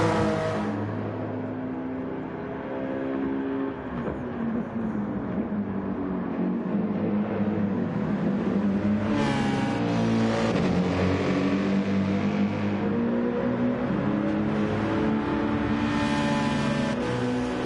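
Race car engines in Gran Turismo 7 scream through the final lap, with loud sustained revving that climbs and falls as gears change and a car sweeps past midway.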